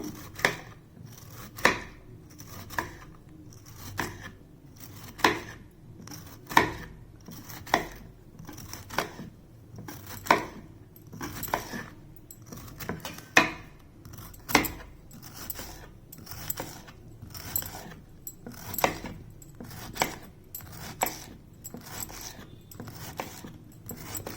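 Bitter gourd being sliced into thin rounds with a knife on a board for thokku: a long run of regular, crisp chopping taps, close and fairly steady in rhythm, with no speech.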